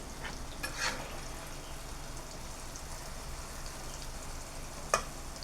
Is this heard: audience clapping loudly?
no